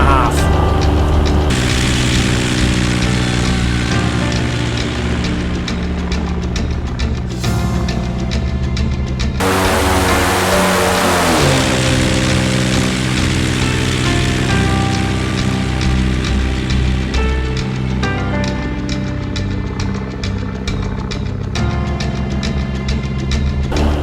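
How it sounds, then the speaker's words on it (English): Steady drone of a propeller aircraft engine on the Just Flight DR4 in X-Plane 11, a constant loud hum with a shift in tone partway through, continuous and close with no talking. "The sounds in this aircraft are absolutely brilliant."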